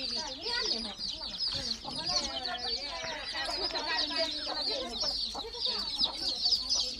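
Free-range hens with chicks and a rooster on a grandmother's village farm, clucking and peeping continuously and close by, with a busy overlapping chorus of chick cheeps above steady hen clucks.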